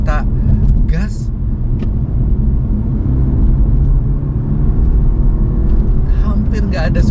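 A 2022 BMW 220i Coupe accelerating, heard from inside the cabin as a steady, muffled low engine drone and road rumble, with a voice talking over it at the start and end.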